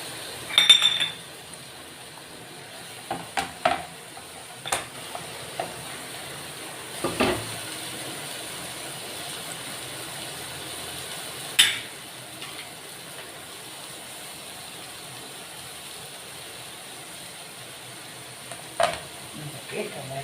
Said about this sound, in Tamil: பீர்க்கங்காயை போட்டு கலக்கலாம்.